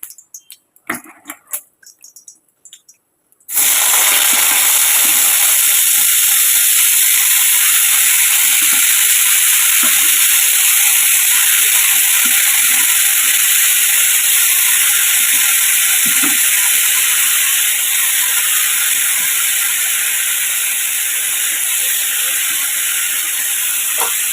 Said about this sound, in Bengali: আলুটা কাটা হয়ে গেছে ভাজাটা বসিয়ে দিই চলো